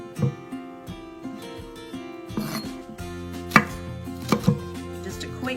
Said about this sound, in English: just a quick chop of all this stuff